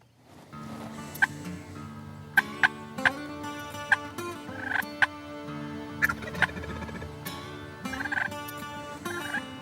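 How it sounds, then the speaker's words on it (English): Osceola wild turkeys gobbling in the woods before dawn, several loud, sharp gobbles from different birds scattered irregularly over a quiet background, some near and some farther off, with no talk. "Though Osceolas are sometimes said to call less than other turkey strains, these birds apparently haven't read the book."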